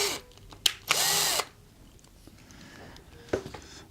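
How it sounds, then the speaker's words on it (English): A power drill bores out a hole in a bass speaker during a repair, with a brief spurt, then a steady half-second whine, and a later short burst, loud and close. "We're going to have to drill that out just a little bit."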